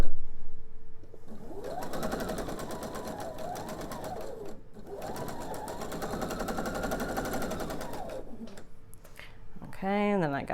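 Sewing machine running a quarter-inch seam while piecing quilt blocks for a pillow, a steady whirring hum in two long runs with a brief pause between, then a short stop and a soft final burst.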